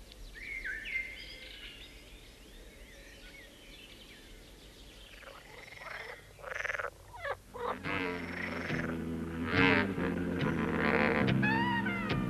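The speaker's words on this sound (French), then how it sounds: "Pour peu qu'une mare se trouve au bord de la haie, vous y trouverez des grenouilles vertes." Green frogs croak by a pond at the edge of a hedge, rapid repeated croaks and chirring calls building in the second half over a soft outdoor background with a few bird-like chirps.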